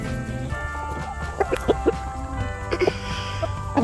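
A small rooster and hens on a homestead give short clucks and calls in brief bursts, moderately close, over a steady low background hum.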